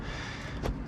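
A plastic interior door panel on a 2021 Subaru Ascent is tugged and popped loose, giving two short, close snapping clicks, the second sharper, over a steady low background hum.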